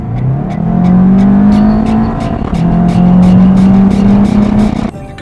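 A SEAT Leon Cupra 290 in Cupra mode revs hard through the gears, a loud close engine note rising in pitch, dropping at a shift, then climbing again under steady road roar.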